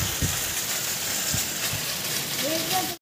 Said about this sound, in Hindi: देख सकते हो आप कितनी जोरदार धुआंधार बरसा आ रही है।